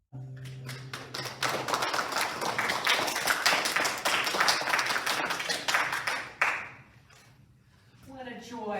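Audience applause at a 50th anniversary gathering, a dense burst of clapping swelling quickly and holding for several seconds before fading out, with a voice beginning to speak as it dies away.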